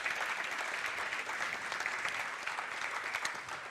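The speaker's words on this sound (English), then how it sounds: "we can give a big round of applause for them" Audience applause for a team of builders at a Cosmos blockchain conference: dense, steady clapping from a sizable crowd, sustained and fairly loud throughout without any talk over it.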